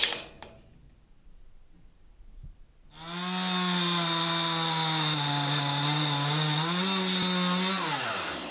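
Power saw cutting oak joists in half, starting abruptly after a quiet pause with a loud, steady, high-pitched whine that holds for several seconds before winding down.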